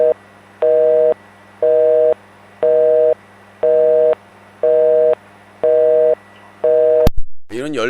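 A telephone busy signal follows a hung-up call on a Korean live call-in broadcast: seven evenly spaced, loud tone beeps in steady rhythm, then a sudden burst of other sound at the end.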